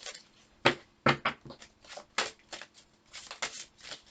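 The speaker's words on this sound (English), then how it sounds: "I'm going to pull one of these angel cards now" Large, extra-long angel oracle cards being shuffled by hand, a series of quiet papery slaps and riffles in irregular bursts, fairly close and soft, with no talking.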